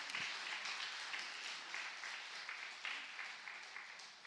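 Applause from a church congregation during a Sunday Baptist service, a sustained wash of many people clapping together, slightly distant and gradually easing off.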